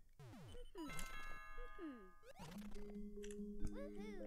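Game music plays: sliding electronic tones, bell-like chimes and a sustained low note, fairly faint and steady.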